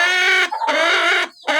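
A brooding hen sitting on eggs gives two loud, close, harmonic clucking calls separated by a short pause.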